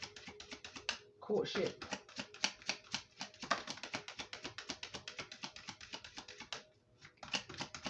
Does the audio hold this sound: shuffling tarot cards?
yes